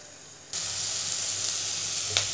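Onions soften in a pan with a little salt for a ridge gourd and prawn curry. A sudden hiss starts after half a second, then settles into a steady, close sizzle with a faint pop near the end.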